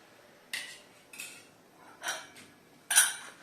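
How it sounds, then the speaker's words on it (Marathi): A pressure cooker lid is set in place over boiling water while matar pulao cooks, making four separate metallic clanks and scrapes, close by and moderately loud, with the last clank sharpest. "कुकरचं झाकण व्यवस्थित लावून घ्यायचं आपल्याला आता"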